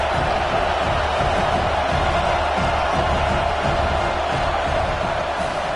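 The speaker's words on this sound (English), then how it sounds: "This crowd trying to make life miserable for this offense." Steady roar of a college football stadium crowd during a Tennessee Volunteers game, loud and continuous with no letup, a dense wash of massed voices and cheering that fills the whole stretch without a break.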